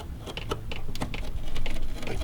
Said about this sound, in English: I'm just going to cut it with my knife.